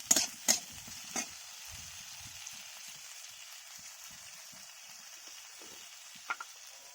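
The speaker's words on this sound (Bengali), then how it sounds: "ভালো করে ভেজে নিচ্ছি আমড়াগুলোকে।" Hog plums (amra) fry in a pan for a sweet-sour chutney. A faint, steady sizzling hiss carries throughout, and a few quick spatula knocks come near the start and again close to the end, all quiet and without speech.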